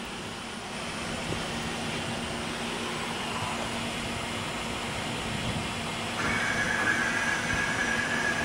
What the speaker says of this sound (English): We're going to set the machine up in a warm-up mode to demonstrate